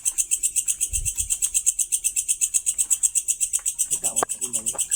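At night near a cemetery, a steady pulsing high-pitched chirping repeats rapidly and continuously, with a brief low thump early and faint voices near the end.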